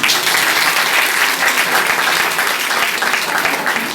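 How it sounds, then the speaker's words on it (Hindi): Loud, dense audience applause fills the hall at a motivational sales meeting, steady and unbroken from start to finish with no voices over it. "बहुत बढ़िया, जोरदार तालियां।"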